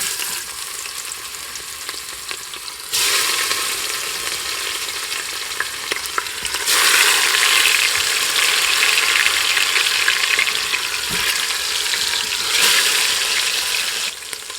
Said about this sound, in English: we're just going to cook them until they're browned on all four sides. Fat side down to begin with